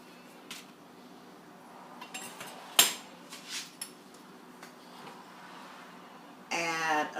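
Chopped carrots drop into a soup pot for Mexican meatball soup with one bright clink, plus a few softer knocks, and a voice briefly starts at the end.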